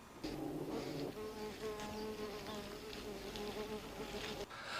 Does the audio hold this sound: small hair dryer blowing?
no